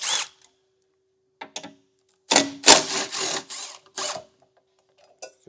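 Power tool running in short bursts on 12mm bolts holding the bumper beam of a 2025 Hyundai during a trailer hitch install, several quick whirring and ratcheting spurts separated by silence, close and fairly loud.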